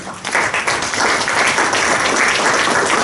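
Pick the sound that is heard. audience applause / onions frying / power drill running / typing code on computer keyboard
audience applause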